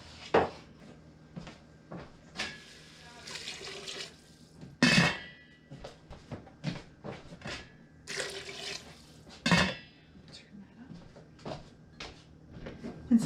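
Kitchen tap running water into a pot for soup stock, with intermittent bursts of gushing flow alongside clinks and clatters of pots, dishes and drawers, fairly quiet and close.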